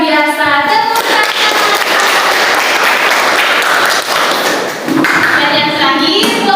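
A class of children claps loudly and steadily after a group finishes presenting, the dense applause running nearly throughout with brief voices at the start and end.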